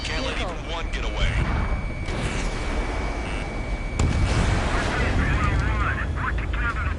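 Missile launches and explosions from the Ace Combat 7 flight game, a dense continuous rumble of blasts and whooshes with a sharp burst near four seconds, under a steady game soundtrack and radio voices.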